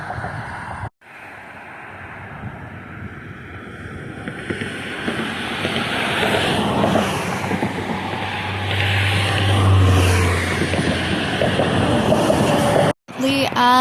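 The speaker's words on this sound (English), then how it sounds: "That is Highway I-64" Steady broadband roar of highway traffic on Interstate 64 near a river trailhead, swelling gradually louder and continuous, with a brief dropout near the end.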